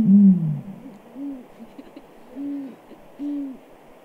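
An eagle-sized owl of Russia, northeastern China and Japan gives deep, resonant hoots: a strong opening call followed by three softer, evenly spaced hoots, close and clear with no talk.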